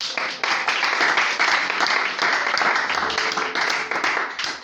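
A church congregation bursts into sustained, dense applause, many hands clapping loudly and evenly for several seconds without a break.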